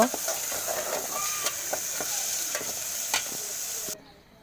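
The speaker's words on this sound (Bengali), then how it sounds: "এই যে টক রান্না করার জন্য এখানে রসুন পেঁয়াজ এগুলো কষানো হচ্ছে।" Garlic and onion frying in a pan for a sour small-fish curry, a steady close sizzle with occasional stirring clicks and scrapes, continuous until it drops away near the end.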